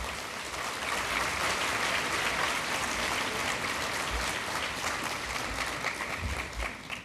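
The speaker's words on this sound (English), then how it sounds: "give all our friends from overseas a really warm round of applause" Warm audience applause at a conference keynote closing in Singapore, a sustained even wave of clapping from a large crowd that holds steady for several seconds before tapering.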